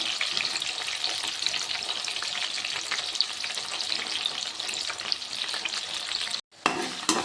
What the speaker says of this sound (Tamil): நம்ம கொஞ்சம் வெங்காயமும் கொஞ்சம் பூண்டும் இந்த மாதிரி பல்ஸ் பண்ணியும் நம்ம வதக்கிறது தான் சேர்த்துக்கணும்